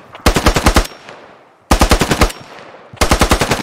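MP5 submachine gun firing in the Squad video game, three loud close bursts of rapid automatic shots, each about half a second long, separated by short pauses with room echo trailing after.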